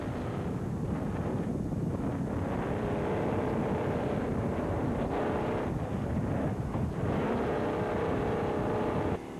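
Roaring engine of a fast boat with heavy wind buffeting, a continuous loud rumble that swells and fades slightly as it races past.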